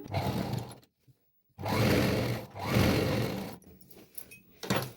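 A sewing machine stitches the side joints of a petticoat in close, loud bursts of whirring, with short pauses between runs.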